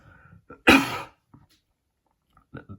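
A single loud, sharp cough bursts out, with faint breathy sounds and brief low murmurs before and after it.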